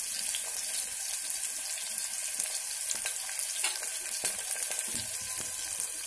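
Mustard seeds and cumin fry in hot oil for a pumpkin coconut masala, giving a steady bright sizzle with scattered crackles and seed pops throughout, close and fairly loud with no talking.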